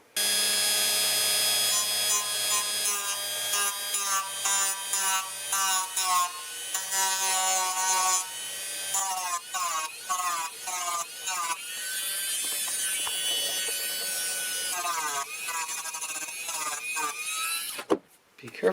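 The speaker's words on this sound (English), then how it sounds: "I need to grind it down a little bit and then file it" A power grinder works down a broken gauge cover standoff on an RZ350 motorcycle, a loud close high whine that rises and falls in pitch through repeated passes before stopping near the end.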